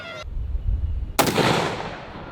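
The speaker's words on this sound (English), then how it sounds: "we have 3 rounds of 175 grain 300 Win Mag. Here we go." A 300 Win Mag rifle firing 175 grain rounds gives a sharp loud crack followed by a rolling outdoor echo, preceded by a low rumble, with no talking.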